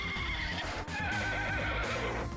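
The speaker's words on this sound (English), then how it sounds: "the horses also have sounds from Harvest Moon, Wonderful Life, or Another Wonderful Life" In Minecraft played in VR through Vivecraft, a horse neighs using a sound borrowed from Harvest Moon: a loud, wavering whinny close up, followed by more snorting and neighing with no voices.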